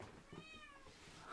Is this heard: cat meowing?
yes